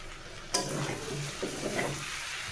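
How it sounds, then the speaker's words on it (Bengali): Beef being stirred and fried in a pan with bay leaves and garam masala, a steady close sizzle broken by a sharp stirring scrape near the start and a few softer scrapes of the spoon afterward. "এগুলো দিয়ে আমি আর একটু নেড়ে ছেড়ে ভালো করে মাংসটা কষিয়ে নিব।"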